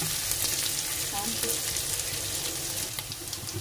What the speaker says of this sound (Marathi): हिरव्या मिरच्या टाकूया आपण आता ह्याच्यात. आपल्या टाकून सगळं भाजून घेऊया.